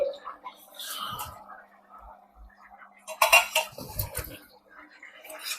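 A cooking pot lid is lifted off a simmering drumstick and potato curry: a short metallic clatter and a few clinks ring out close by after quiet kitchen background.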